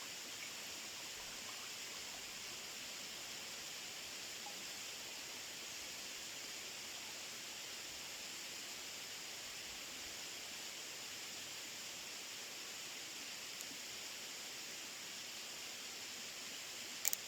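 A steady, faint hiss of trickling water runs evenly throughout as 2 liters of water filter down into a pot outdoors on a hiking trail, with no talking.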